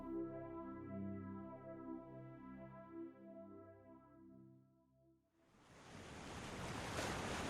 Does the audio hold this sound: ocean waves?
yes